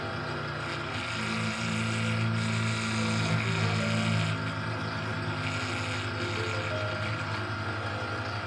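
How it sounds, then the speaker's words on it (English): A vortex mixer shakes a bottle of hobby airbrush paint, giving a steady, loud motorized buzz that holds without a break for several seconds. "Throwing this paint on the vortex mixer so that I don't have to deal with any clogs"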